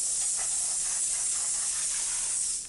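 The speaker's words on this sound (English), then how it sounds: "I've been watching a Vapor Rino 120 volt, 3-in-1, 145 PSI automotive detailing vapor steam cleaning system in action." Vapor Rino 120 volt, 3-in-1, 145 PSI vapor steam cleaner used for automotive interior detailing, giving a loud, continuous, close hiss of escaping steam that cuts off abruptly at the end.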